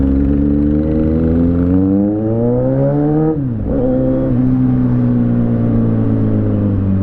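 Steady road traffic on a busy street, with continuous engine hum and rising motor drone as vehicles pass, and a brief dip and shift in pitch midway as one goes by, loud and close.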